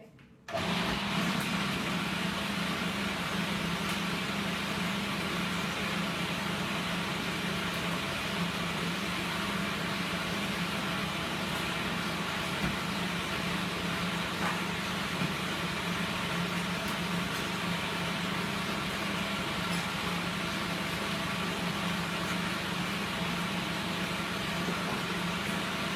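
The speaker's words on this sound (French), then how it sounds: "Je vais mixer encore un tout petit peu parce que je trouve que les morceaux de carottes sont un petit peu épais." Steady, loud whirring of a blender running continuously to finish chopping carrot pieces in paleo, gluten-free, sugar-free carrot cake batter, alone with no talk.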